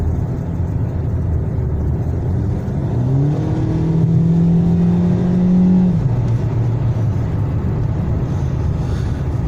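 Lada Kalina 2 engine pulling under load while hot, with a steady motor drone and a brief rising whine in the middle, no voices.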